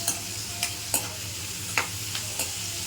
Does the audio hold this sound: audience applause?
no